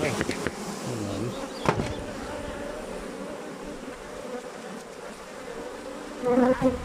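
Honey bees droning steadily around an open hive during an inspection for black seed (nigella) honey, a close continuous buzz with brief louder passes, with a few short bursts of voices.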